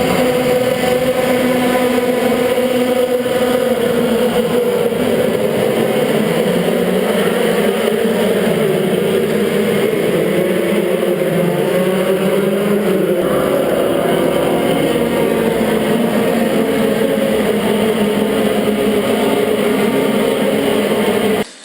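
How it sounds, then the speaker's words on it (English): Formula 3 race cars at a race track, a loud continuous engine roar with shifting pitch as cars pass and accelerate, sustained for over twenty seconds without talk. "Next up was a Formula 3 race, and just listen to this. It's pretty loud."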